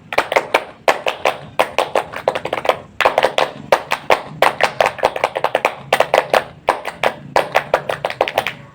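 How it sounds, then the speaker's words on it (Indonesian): Tepuk pramuka, the Indonesian scout clapping routine, performed as a loud, close, rhythmic pattern of hand claps in repeated grouped bursts with short pauses between phrases. "Tepuk 3 kali tepuk pramuka."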